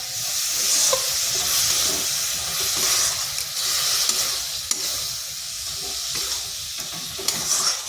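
Date jaggery filling for patisapta stirred in a hot pan, a steady close sizzle and hiss with soft scraping strokes and occasional light spoon taps against the pan.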